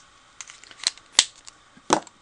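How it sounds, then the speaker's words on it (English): Plastic caps snap shut on alcohol markers during card making, a few sharp separate clicks spaced unevenly, close and crisp against a quiet room. "you hear that clicking? I'm closing up my markers in between each use."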